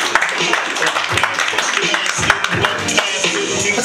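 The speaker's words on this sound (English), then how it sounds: "keep those applause going for your next comic" Audience clapping and cheering at a stand-up comedy show, loud and close, with dense overlapping claps and whoops that continue without a break.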